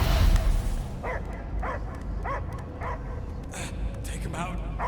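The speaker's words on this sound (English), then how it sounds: "I hear only barking" A dog barks repeatedly in a steady series over a constant low rumble in the video game Marvel's Guardians of the Galaxy, with a voice speaking underneath.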